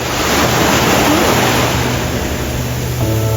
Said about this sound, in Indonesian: Tapi hari ini ombaknya besar sekali di sini